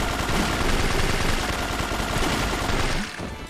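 Shotgun fire in Yakuza 3, a dense unbroken barrage of loud blasts that keeps going for several seconds before easing off.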